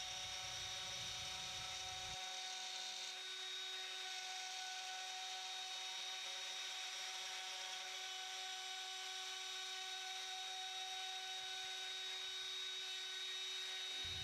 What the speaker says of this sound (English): And just like that, our first fret slot is cut.